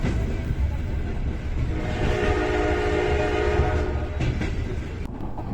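A commuter train near Bishkek, Kyrgyzstan rumbles past close by, a loud continuous roar of wheels and carriages with a sustained horn tone sounding through the middle.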